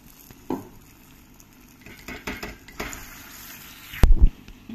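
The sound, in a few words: spinach dal kofta frying in oil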